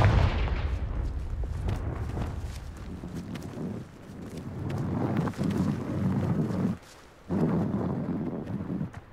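The Confringo fire spell cast in Hogwarts Legacy, heard as repeated booming bursts with rumbling tails and short pauses between them.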